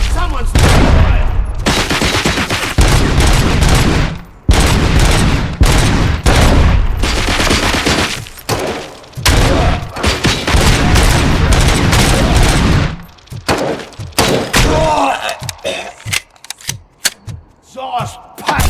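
Loud, near-continuous gunfire and booming explosions pound through a firefight in the Robocop Rogue City video game, dense bursts running for seconds at a time before breaking into scattered shots and thuds toward the end.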